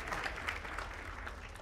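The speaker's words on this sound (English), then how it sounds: "Give a round of applause for yourself." Audience in a theater clapping at a student a cappella group's winter show matinee, a steady dense wash of applause filling the short stretch at moderate level.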